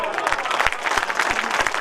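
Brief burst of audience clapping at a mushaira poetry gathering, moderately loud with individual claps audible in an uneven patter.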